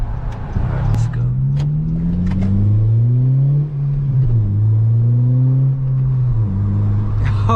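A 9th gen Honda Civic Si with a cheap Amazon aftermarket exhaust revs loud and close, its raspy drone climbing and falling through several throttle blips while it keeps running the whole time.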